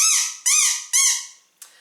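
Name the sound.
squeaky plastic toy ball with a smiley face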